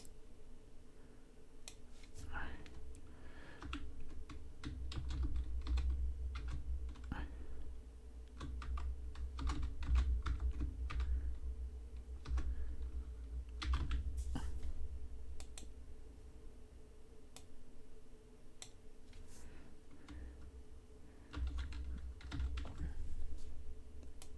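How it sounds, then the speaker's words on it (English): Steady typing on a computer keyboard, irregular bursts of quick clacking keystrokes with short pauses, close and quiet over a low background hum, with no talking. "So we'll just type those in."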